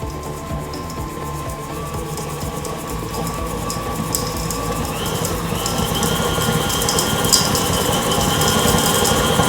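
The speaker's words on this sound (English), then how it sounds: "If you start too high, your KitchenAid is going to start shooting food out of your bowl" A KitchenAid stand mixer churns ground meat and breading for dog food, a steady motor whir and rumble that holds constant and grows slightly louder throughout, with no talking.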